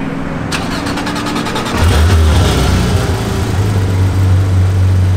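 A Porsche 991.1 GT3 RS engine cranks and fires up close by, then settles into a loud, steady idle with a deep rumble. No one speaks.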